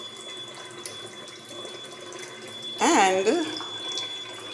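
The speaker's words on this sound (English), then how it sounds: "filling up a pot with water" Tap water runs into a pot being filled at a kitchen sink, a steady low rush throughout, with a brief spoken word and a short burst of vocal or clattering sound partway through.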